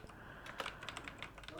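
Typing on a computer keyboard while entering an ngrok command, with quick irregular key clicks close by and a faint steady background hiss.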